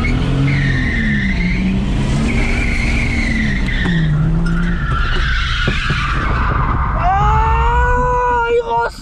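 A Subaru slides sideways under the handbrake, tires skidding and squealing loudly over a steady engine roar, with strained revving near the end and a voice talking over it.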